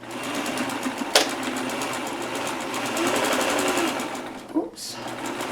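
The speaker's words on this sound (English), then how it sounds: "So every time we go over a seam, we backspace, we reverse over it, so it gets sewn twice." A sewing machine stitches a quilt seam and reverses back over it, a quick steady mechanical whir running throughout with a couple of brief clicks, heard under a person talking.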